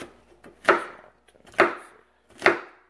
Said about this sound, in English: We're just using the cut board and we're dicing this up ready for our fried rice.